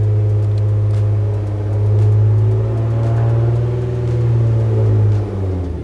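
An Infiniti G37 with a suspected driveline fault idles steadily and is put into first gear, its low engine hum holding close and even with slight swells and no talk.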